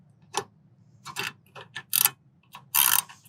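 Someone tightens a bolt on a step-through fat-tire electric trike with a 19 mm wrench or ratchet, giving irregular bursts of metallic clicking and scraping close up over a low steady hum.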